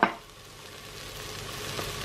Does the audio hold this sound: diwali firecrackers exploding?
no